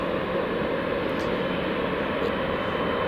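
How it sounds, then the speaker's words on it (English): Freebird Airlines airliner taxiing at Newcastle Airport, a steady, loud broadband jet roar and hiss that holds constant throughout, with no voices. "Freebird is actually taxiing first, so we'll get the Freebird taxiing from left to right"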